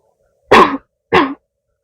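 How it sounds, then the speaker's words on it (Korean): A woman with a weak throat coughs twice in a quiet close-up roleplay setting, two short, near, fairly loud coughs separated by a brief pause. "최대한 기침을 안 하게"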